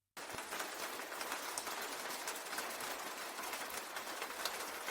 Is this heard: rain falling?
yes